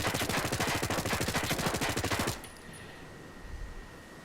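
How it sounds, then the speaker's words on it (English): Suppressed Echelon SMG in Ghost Recon Breakpoint firing a rapid full-auto burst of about two seconds, dense evenly spaced shots, followed by quiet ambient game background. "Right, let's put the suppressor on."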